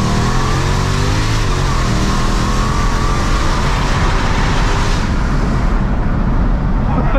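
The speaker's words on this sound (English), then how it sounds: "supercharged V8 engine producing 707 brake horsepower from factory" A supercharged V8 engine in a 914 bhp Dodge Hellcat with a full aftermarket exhaust roars and revs hard, loud and close, with the throaty rumble swelling and easing throughout.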